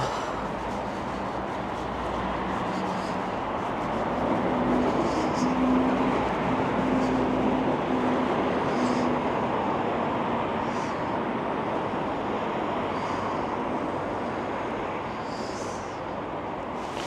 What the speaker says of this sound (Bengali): এই হলো মেট্রো